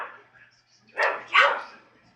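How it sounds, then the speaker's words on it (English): A neighbor's dog barks twice from some distance, two short sharp barks close together after a faint lead-in, with nothing else around them. "that triggered the neighbor's dog to start barking right before I started filming"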